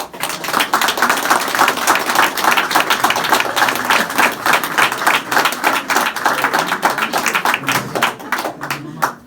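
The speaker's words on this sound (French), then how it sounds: "Vous pouvez vous applaudir." A crowd at a political campaign headquarters opening claps enthusiastically, close and loud, with distinct hand claps forming a busy rhythmic texture and voices murmuring underneath.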